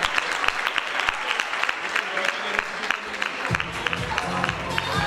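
Audience applause at a local festival queen election in Aire, 2019, as a small parade passes: a dense, steady wash of clapping throughout, with a low hum of crowd noise joining in the latter half.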